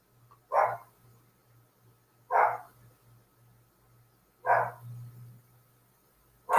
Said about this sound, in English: you can hear my dog barking in the background